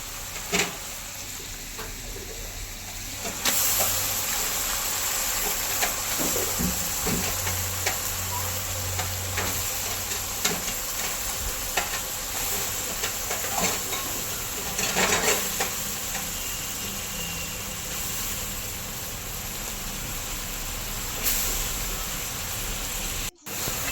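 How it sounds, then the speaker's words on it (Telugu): Chopped tomatoes and spinach fry and sizzle steadily in a pan while a spoon scrapes and stirs them, with scattered clicks and taps. No one speaks. "అడుగు అంటకుండా తిప్పుకోవాలి"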